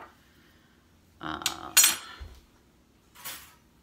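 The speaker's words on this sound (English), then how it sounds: "just mix that around so we have our flour substance" Cutlery clinks and scrapes against a bowl while oat fiber flour mixture for low carb cinnamon rolls is stirred, a few short bursts of clatter close by with quiet gaps between.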